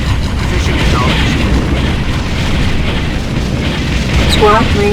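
Booming explosion of a destroyed enemy Haverdyne unit in the Ground Control strategy game, a continuous rumbling blast mixed with battle noise and radio-style unit voice callouts throughout.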